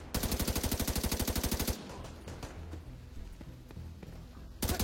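Video game gunfire: a rapid automatic burst rattles loudly for under two seconds, then scattered softer shots and thumps, and another burst erupts at the very end.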